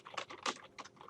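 Typing on a computer keyboard during an Access database lesson: a quick run of crisp, close key clicks in an irregular rhythm, with no voice.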